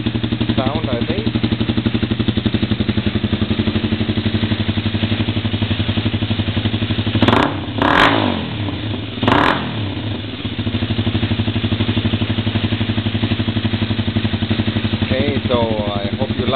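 A motorcycle with a Tsukigi full carbon exhaust idles loudly nearby, then revs in three short, sharp bursts in quick succession before returning to its steady idle.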